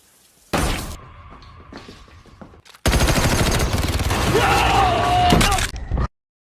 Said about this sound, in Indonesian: dengan senjata yang sudah disiapkan di bawah meja, Paul langsung memberondong si pelaku hingga tewas saat itu juga